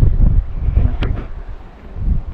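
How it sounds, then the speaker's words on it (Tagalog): Strong wind buffets the microphone in low, rumbling gusts, steady throughout with a brief higher swish in the middle. "Malakas na rin po ang hangin."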